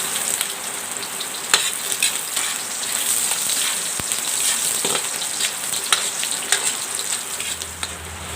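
Ginger frying in hot cooking oil in a home kitchen: a loud, steady sizzle and crackle with small pops and occasional stirring clatter, heard alone without talk.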